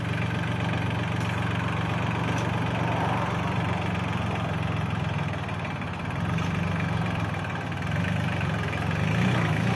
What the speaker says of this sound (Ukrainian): 26-й тестують, пробують, як він на третій передачі, чи рушить, чи не рушить.